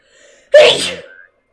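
A single sharp sneeze, close and loud, preceded by a short inhale and followed by silence.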